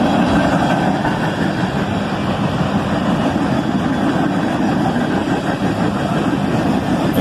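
A BNSF freight train led by locomotives in warbonnet paint passes with coil shield cars and gondolas, a loud, continuous broadband rumble and rail roar that holds steady throughout.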